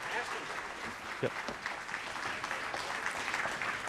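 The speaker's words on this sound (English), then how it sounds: "So how about one more big round of applause for Ashton, please?" A large audience applauds at a live tech event in Sydney, with steady, dense clapping throughout, and a voice speaks briefly over it.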